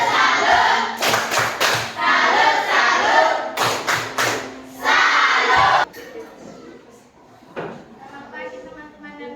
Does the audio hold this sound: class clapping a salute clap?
yes